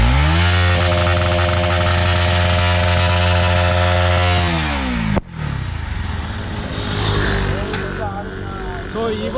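A Bajaj Pulsar NS200 BS4 motorcycle engine revs loudly and steadily, then cuts off sharply and drops to a rougher, lower idle rumble with some background noise.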